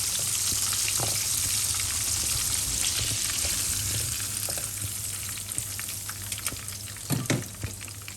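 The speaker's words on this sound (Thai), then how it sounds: "ทอดไปจนกว่าจะเหลืองกรอบค่ะ" Breaded pork cutlet for tonkatsu deep-fries in hot oil, giving a loud, constant close sizzle and crackle with a few sharper pops and clinks toward the end and no talking.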